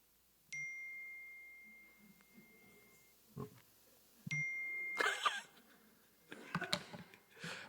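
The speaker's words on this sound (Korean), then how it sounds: "휴대폰에서 울리는 띠링 하는 문자 소리입니다" A mobile phone's short electronic text-message notification ding chimes twice, each a brief clean tone standing out in a quiet room amid scattered light rustles and small bumps.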